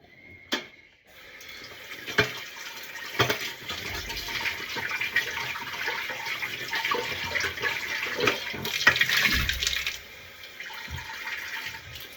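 Ingredients for arroz caldo are rinsed under a running kitchen tap, water splashing and hissing steadily for several seconds with occasional knocks and clatter, then the flow stops.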